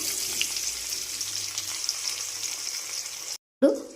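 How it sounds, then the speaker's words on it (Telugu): Chopped onions fry in hot oil left over from frying eggs in a pan, a steady close sizzle that cuts out briefly near the end before a sharp burst resumes. "ఇప్పుడు కట్ చేసి పెట్టుకుని ఉల్లిపాయలు వేసుకోవాలి అదే ఆయిల్లో"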